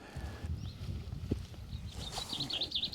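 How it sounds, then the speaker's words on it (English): Small birds chirp and warble in the distance on a foggy stretch of the South Downs Way, a run of quick repeated high notes near the end over low outdoor rustling. "Nice to hear the birds singing anyway."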